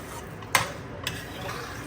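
Dudhi halwa stirred in a pan with the gas off: two quick scraping strokes of a spoon against the pan, the first louder, over a quiet background.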